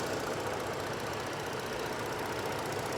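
A steady V6 engine idle in a GMC G20 van, continuous and even, with a low rumble and broadband mechanical hum close by, no voices.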